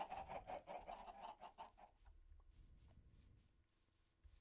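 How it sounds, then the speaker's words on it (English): Chickens clucking in the video game Minecraft, a quick burst of close clucks that fades into quieter scattered clucks and faint background sound. "Hello chickens. My chicken army grows every day."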